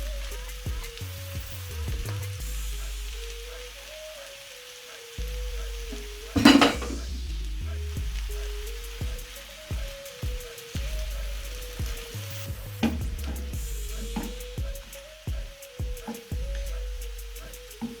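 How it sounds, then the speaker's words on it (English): Washed spinach is stirred into a creamy, spicy prawn stir fry. A spatula knocks and scrapes against the pan in bursts, and one sharp clatter stands out over a faint, low sizzle. No one speaks. "And now I've washed my spinach, so I'm just going to stir that in"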